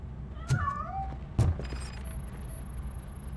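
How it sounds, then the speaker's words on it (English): A cat meows in the video game RoboCop: Rogue City, with a short wavering meow framed by two sharp thuds, then quiet game ambience with a faint high tone. "That cat must be hiding inside."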